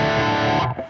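An electric guitar played through a Neural DSP Soldano SLO-100 amp model, dry without reverb, sounds a sustained distorted chord close and loud, cutting off abruptly near the end.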